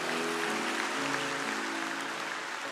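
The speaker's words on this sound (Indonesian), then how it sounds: "Yang percaya berikan tepuk tangan untuk Tuhan." Congregation at a church service clapping for God, a dense wash of applause filling the room evenly for a few seconds while a sustained tone hums underneath.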